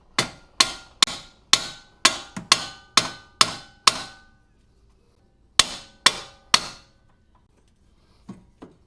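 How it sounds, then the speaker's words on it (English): A hammer taps a steering knuckle on a 2002-2006 MINI Cooper during a coilover install: about a dozen sharp, ringing metallic strikes in an even rhythm, a pause, then three more close, loud blows. "you just give it a tap with a hammer on the steering knuckle and it falls right out."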